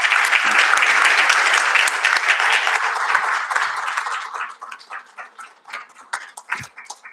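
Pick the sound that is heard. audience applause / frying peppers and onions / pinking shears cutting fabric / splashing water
audience applause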